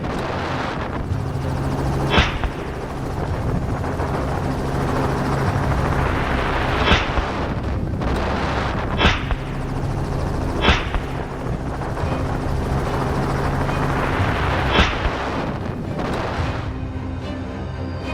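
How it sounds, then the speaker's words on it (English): A helicopter flying low over a mountain while hunters track wild boars at night, its steady rotor roar close overhead, with several sharp bangs breaking through at intervals. "the helicopter's low altitude to reduce glare caused a lot of noise"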